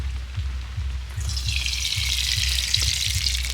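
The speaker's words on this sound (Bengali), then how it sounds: "কড়াইতে প্রথমেই দিয়ে দিচ্ছি তেল" Oil is poured into a kadai: after a second of low hum, a bright hissing rush starts and holds steady to the end, close and moderately loud.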